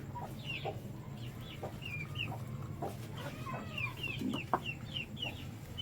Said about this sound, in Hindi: मुर्गी जो है वो डर रही है।